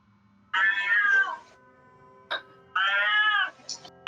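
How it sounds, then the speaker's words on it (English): A domestic cat meows twice, each call drawn out and fairly loud, with a brief click-like noise between them, heard alone in an indoor room. "Only my cat doesn't like my singing."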